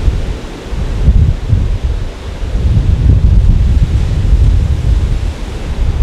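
Strong ocean waves break on a nearby beach at a Malaysian border post, with a continuous loud roar of surf and gusting wind buffeting the microphone. There is no talk.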